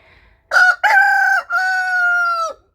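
Chickens being raised without light, with a loud close rooster crow in three drawn-out parts after a moment of quiet and a faint cluck at the start.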